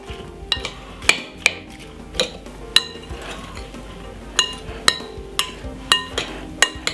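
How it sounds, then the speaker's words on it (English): Sweet chilli king prawns stirred in a pan with a metal utensil, giving about a dozen sharp, irregular clinks and scrapes against the pan over a low background hum. "Give it a nice, lovely stir."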